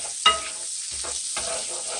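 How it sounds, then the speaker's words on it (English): Shallots sauté in about three tablespoons of butter in a pan, giving a soft, steady sizzle with a few close stirring scrapes and light taps over two seconds. "saute that till they're glistening"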